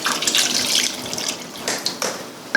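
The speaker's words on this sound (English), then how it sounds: "And I'm going to add some water." Water poured from a container into a cooking pot while making Cameroonian pepper soup, a steady splashing pour running for a couple of seconds before tapering into a few close drips and splashes.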